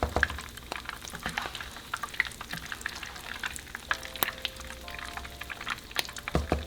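Potato and cheese cakes frying in hot oil, a steady close crackle and sizzle with scattered pops and some utensil scraping, no talking.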